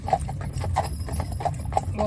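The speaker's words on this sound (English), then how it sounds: "You see these horses just go along here now as though they've been doing it for weeks" Horses, including a big stallion, walk along while being prepared for a wedding, their hooves clip-clopping in a close, loud, uneven rhythm of several strikes.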